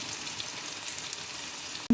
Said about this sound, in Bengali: আমি একে লো ফ্লেমে 5 মিনিট আরও কষিয়ে নেব